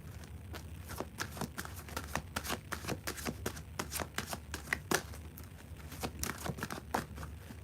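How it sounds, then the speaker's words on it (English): Rapid, continuous riffling of tarot cards being shuffled up close, crisp flutters and taps repeating in quick bursts with no talking. "Why am I shuffling the wrong cards first?"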